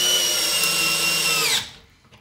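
A Milwaukee M12 half-inch hammer drill/driver runs at speed 1, driving a long screw with a steady, close motor whine that holds for about a second and a half, then stops abruptly and trails off into quiet.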